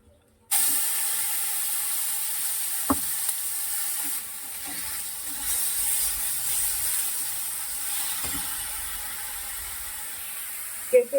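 Nigella seeds, or black cumin, sizzle steadily in hot oil as a continuous close frying hiss, with a few faint clinks and stirring knocks.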